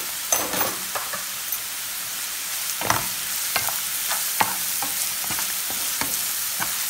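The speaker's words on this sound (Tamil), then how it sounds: "சோ வெங்காயம் நல்லா வதங்கட்டும்" Salted onions sauté in a pan for an egg kuzhi paniyaram curry. The frying hiss is steady and close, broken by repeated spatula scrapes and knocks against the pan at an irregular pace, with no talk.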